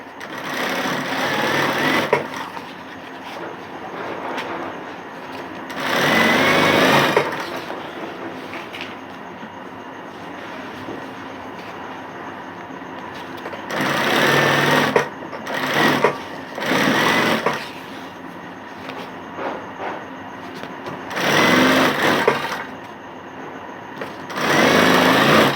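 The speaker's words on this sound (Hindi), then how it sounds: "बकरम की जस्ट बाजू में सिलाई कर रही।" Sewing machine stitching fabric right beside buckram on a bottom strip, in several sustained bursts of motor whir with quiet gaps between them.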